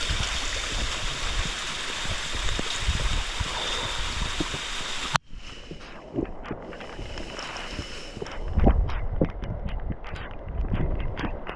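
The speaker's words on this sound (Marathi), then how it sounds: "पाण्याचा झरा." Water from a stream near a waterfall at Bhimashankar rushes steadily with broadband wash. It drops to a quieter flow with gusts of wind noise partway through. No one talks over it.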